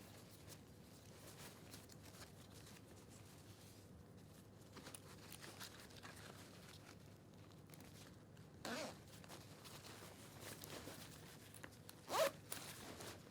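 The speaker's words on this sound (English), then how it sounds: "Zip it all the way down, like so." A zipper on a Taichi race suit runs in a few quick, quiet pulls, close by amid faint rustling of the suit's material, with no one talking.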